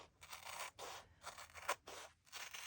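Scissors cutting through card for a pizza box journal, five or six rhythmic close snips, each a short raspy stroke separated by brief pauses.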